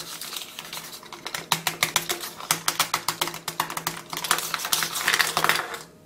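Metal keys scratching and clicking against an iPhone 6, a rapid run of close, sharp scrapes and taps in an irregular rhythm, crisp and fairly loud with no talk.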